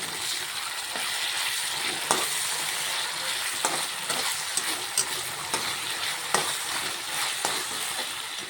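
Chow mein sauce with soy sauce and tomato sauce being stirred and fried in a hot pan at home, a steady sizzle broken by repeated scrapes and clinks of the spatula at an irregular rhythm, close and fairly loud.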